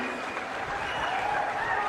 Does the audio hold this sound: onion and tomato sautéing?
no